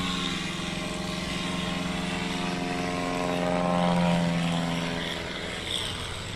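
A 1955 Cessna propeller airplane at a STOL competition drones steadily nearby, its engine pitch rising and swelling louder midway before easing off, with faint crowd noise around.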